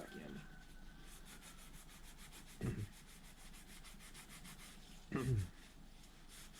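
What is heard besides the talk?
scrubbing rust off motorcycle parts with Scotch-Brite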